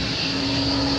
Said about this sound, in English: as you can hear by the way in the background, that's the aeroplane jets